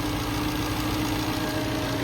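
A 2010 Tata Indica Vista Aura with a 1248 cc, 1.3-litre diesel engine idles steadily up close. A constant low rumble carries a faint, persistent tonal hum with no breaks.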